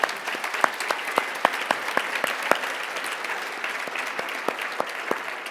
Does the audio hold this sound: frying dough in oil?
no